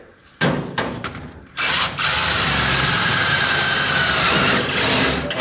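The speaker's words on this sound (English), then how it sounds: "That was a little thin piece of metal there, so it drilled through pretty easy." A power drill bores through the thin metal of a file cabinet, first a few short stop-start bursts, then a steady, loud, high whine held for several seconds up close.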